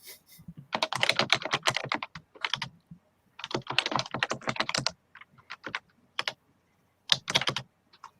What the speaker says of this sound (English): someone, that's not me typing, by the way, so just in case I always get blamed for being a loud typer